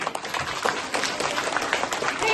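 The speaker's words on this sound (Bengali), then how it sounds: "আমাদের রুকিয়ার জন্য একটা জোরে হাততালি।" An audience at a community festival bursts into loud, close clapping, a steady crackle of many hands holding for the whole moment, with a voice faintly underneath.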